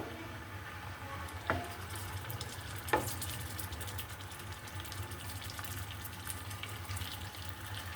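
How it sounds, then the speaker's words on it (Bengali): Koi fish frying slowly in a pan, a continuous gentle sizzle of oil with two brief utensil clinks early on, steady and moderately quiet. "আস্তে আস্তে ভাজতে হবে মাছটা"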